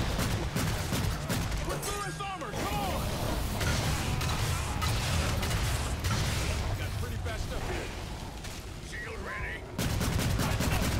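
Rapid weapon fire and rocket blasts in the video game Evolve rattle continuously over a dense battle mix, with bursts of mechanical gunfire and explosions throughout, while a player talks excitedly over the action.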